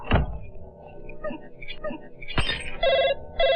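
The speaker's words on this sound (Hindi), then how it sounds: "फोन आ गया।" A telephone rings in a scene from the 2003 Hindi comedy film Raja Bhaiya: two short bursts of electronic ringing near the end, following thumps and door-like knocks and some muffled background voices.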